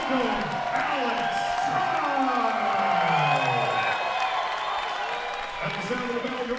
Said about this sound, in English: The hometown crowd has definitely made themselves heard.